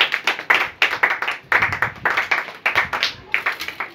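A church congregation claps together in a steady, rhythmic beat, loud and close, keeping an even tempo throughout.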